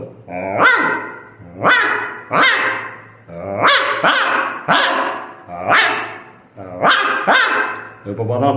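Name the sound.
man imitating a dog barking and growling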